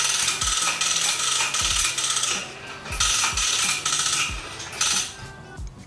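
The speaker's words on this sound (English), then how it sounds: "And look how nice the hose retracts." A Giraffe Tools UltraFlow pressure washer hose reel retracting, giving a busy run of clicking, rattling mechanical ratchet sounds with bursts of hiss and scraping, close and moderately loud, with no talking.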